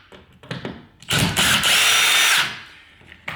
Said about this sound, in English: take our drill and undo these screws.